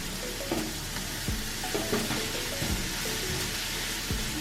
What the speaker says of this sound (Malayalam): ഇനി ഇതിലേക്ക് സവാള ഇട്ട് നമുക്കൊന്ന് വഴറ്റിയെടുക്കാം.